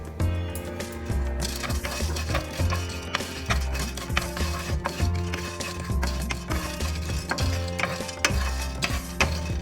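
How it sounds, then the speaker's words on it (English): Pumpkin and sunflower seeds are dry roasted in a pan over medium heat, rattling and scraping as they are stirred in quick, repeated strokes, close and busy throughout. "We will do dry roast all the seeds one by one."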